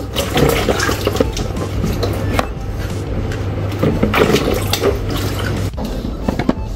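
Tap water running steadily and loudly as raw tamarinds are washed by hand, with splashing and handling noises over a continuous rushing stream.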